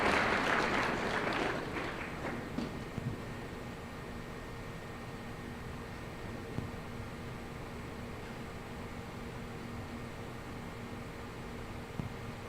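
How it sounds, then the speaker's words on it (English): Applause for volunteers from a live audience, a burst of clapping in the first two seconds that quickly fades into room hiss and a few scattered claps. "How about a huge round of applause for our awesome volunteers?"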